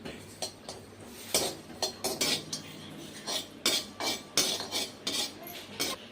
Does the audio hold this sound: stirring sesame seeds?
yes